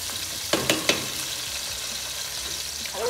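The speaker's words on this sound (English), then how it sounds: "the oil is already hot enough, the onions will not really take time to fry" Onions fry in already-hot oil, a dense close sizzle with a few stirring clacks near the start, continuous and loud with no talking.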